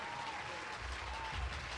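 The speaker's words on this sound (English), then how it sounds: "Sound of one hand clapping there" A brief burst of clapping, low and muffled, with a soft crowd murmur under it and no voices on top.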